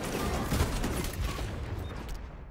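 Sniper rifle shots ring out in a Call of Duty match, with sharp gunfire reports sounding over a busy, noisy game mix. The shots are fairly faint overall.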